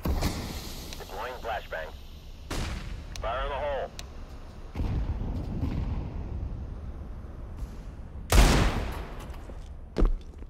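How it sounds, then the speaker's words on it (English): Counter-Strike gunfire and grenade blasts on the de_nuke map, including a flashbang, with sharp loud bursts near 2.5 and 8.3 seconds and a smaller pop near 10 seconds, under talk and radio-like voice calls throughout. "Deploying flashbang. Fire in the hole."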